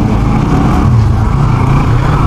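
A motorbike with a radiator problem, run after sitting idle for six days, gives off an abnormal sound like something striking inside; the loud, steady engine noise fills the whole stretch close to the mic.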